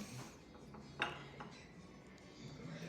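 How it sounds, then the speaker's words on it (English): Real eggshells prepared as Easter candles are set into a little egg holder, giving one clear light clink and a few softer taps in an otherwise quiet room. "Let's put all the eggs in the little holder."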